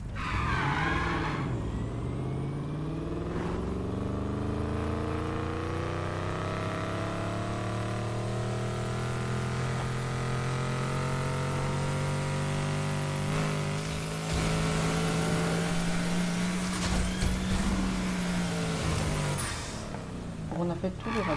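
A car in Need for Speed Heat speeds up hard on nitro, its engine note climbing in a long sustained whine across the whole stretch, loud and close, with someone talking over it.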